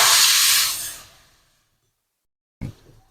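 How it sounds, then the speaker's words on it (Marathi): A sharp burst of hissing steam as two cups of water are poured into a hot kadhai fades away into silence, followed by a brief clatter near the end. "कढईमध्ये मी दोन वाट्या पाणी घालते"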